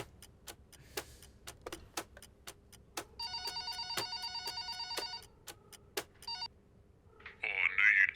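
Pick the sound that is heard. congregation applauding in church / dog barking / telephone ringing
telephone ringing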